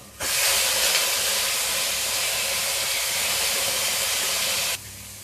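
Mutton dropped into a pan of spices and bay leaf sautéing in a Kerala-style mutton roast sets off a loud, steady hissing sizzle that holds for about four and a half seconds, then suddenly falls away.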